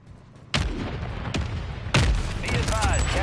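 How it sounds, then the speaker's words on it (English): Mortar strike in Call of Duty: Warzone lands as a few heavy, loud explosive booms in quick succession, each followed by rumbling debris and battle noise, with faint radio chatter in the background. "Copy that. Mortar strike."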